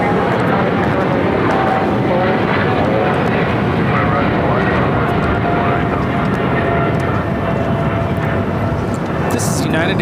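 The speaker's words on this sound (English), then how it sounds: "This is United Airlines 1396 taking off to Newark on the 777-200 ER." A United Airlines Boeing 777-200ER takes off at LAX, a loud, continuous broadband jet engine roar that stays steady and full throughout, heard from nearby.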